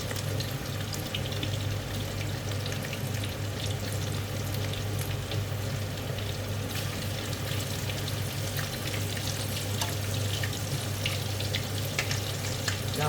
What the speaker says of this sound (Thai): ก็เลยทอดทั้งปีกเลย แต่ว่าตัดแยกส่วนนะคะ